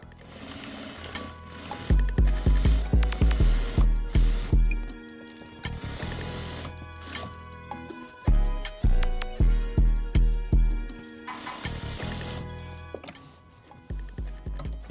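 A sewing machine runs a straight stitch through fabric in several loud bursts of rapid, rhythmic needle clatter, each run separated by brief pauses, with no talking.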